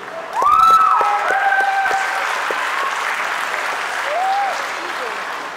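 A crowd at a college commencement claps steadily for the graduates, with the sustained applause filling the space. A voice speaks over it at the start.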